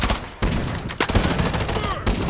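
Gunfire in the Blood Strike mobile shooter game: loud, dense bursts of rapid shots with sharp onsets, nearly continuous across the clip, with game sounds layered in.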